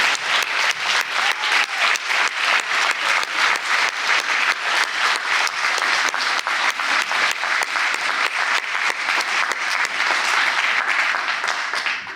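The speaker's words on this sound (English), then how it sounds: "You deserve a huge round of applause." Loud, sustained audience applause at a lung cancer initiative meeting honoring healthcare providers, dense steady clapping filling the room throughout.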